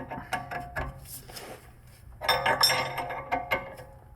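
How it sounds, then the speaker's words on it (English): Metal clinks and ratcheting clicks from two wrenches turning the nuts on a BMW E90 rear lower control arm ball joint, irregular taps and scrapes up close with a low background hum. "you put gloves on, 2 wrenches, and just start turning the nuts."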